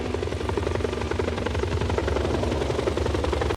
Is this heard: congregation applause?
no